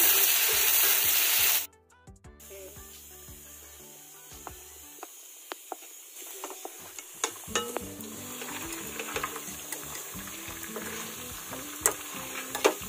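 Tomatoes with salt fry in a pan for chilli chicken, a soft steady sizzle with scattered clicks and scrapes of a utensil stirring, close and fairly quiet, no talk.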